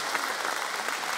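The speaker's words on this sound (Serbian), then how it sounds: "Ogroman aplauz za ove dve" An audience on a televised singing competition applauds two young female singers. The clapping is steady and continuous at moderate loudness, with a faint crowd murmur underneath and no distinct speech.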